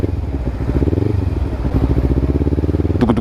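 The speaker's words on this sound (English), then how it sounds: "that's how the Akrapovic exhaust sounds at full rev" Kawasaki Ninja 300 fitted with an Akrapovic exhaust revving hard at full rev, a loud, close, throbbing engine note with steady pulsing harmonics and a sharp throttle blip near the end.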